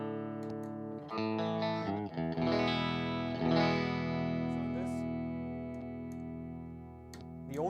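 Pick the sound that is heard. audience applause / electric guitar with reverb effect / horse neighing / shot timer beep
electric guitar with reverb effect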